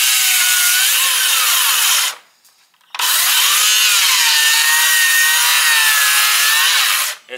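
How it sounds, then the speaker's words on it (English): A power saw rips through wooden floor joists on a room-addition job site, loud and close, in two long cuts split by a brief pause. "We're cutting floor joists on this boom edition."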